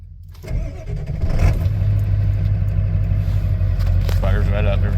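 1997 Ford F-250 HD 4x4 with a 7.3 diesel cranks briefly and fires up, settling into a loud, steady, slightly rough idle heard up close, with someone talking over it.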